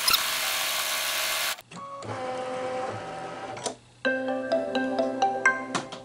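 Embroidery machine stitching down the bottom flap of a composition notebook cover, a steady loud mechanical whir broken by brief pauses, then resuming with a rhythmic tonal whine.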